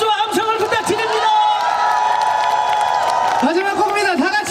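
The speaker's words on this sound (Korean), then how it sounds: "다시 한번 뜨거운 박수와 함성을 부탁드립니다" Concert audience at an outdoor festival stage in Masan cheering and applauding loudly, a sustained wash of whoops and claps, with a host's voice speaking over the crowd.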